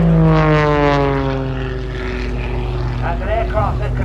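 Propeller aircraft engine at a 2024 Southport airshow aerobatic display, loud and near, its pitch sliding downward as the plane passes through a roll, with a commentator talking over it.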